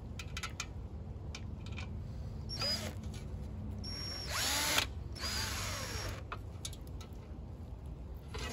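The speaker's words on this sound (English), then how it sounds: "you're really gonna have to be careful if you use a drill to run in these sheet metal screws." A power drill runs in short whirring bursts, driving sheet metal screws while building a hobo stove, with a longer burst near the middle and quieter pauses between runs against steady background noise.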